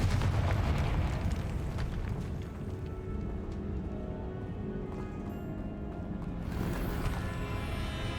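Confringo fire spell blasts in the game Hogwarts Legacy: a loud, sustained rumbling burst with crackling debris and low booming that holds steady for several seconds, dense and close, with no talk.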